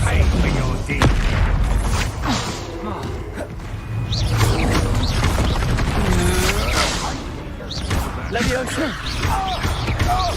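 A magical Expulsor spell blast in Hogwarts Legacy during a battle, booming impacts and crashing debris within a dense, continuous combat soundscape, with a character's voice speaking over the action.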